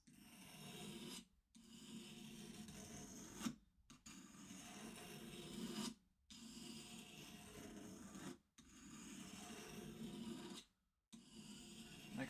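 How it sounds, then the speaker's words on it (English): Sandpaper rubbed through the middle of a part for an electronic instrument build, a steady rasping scrub in five long strokes separated by brief pauses, close and fairly soft with no talking. "I have to use a bit of sandpaper through the middle of this"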